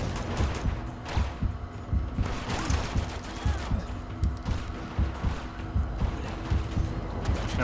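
Rapid gunfire from the video game Uncharted: Among Thieves, a dense run of sharp shots and bursts with clanks and crashes mixed in, steady and fairly loud throughout.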